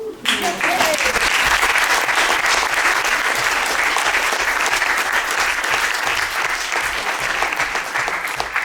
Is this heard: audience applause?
yes